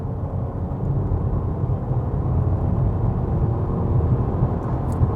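A 1-litre Honda Civic engine revs up from inside the car, a rough, steady broadband roar and drone that builds slightly and holds, with no speech over it.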